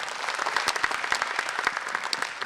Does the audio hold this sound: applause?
yes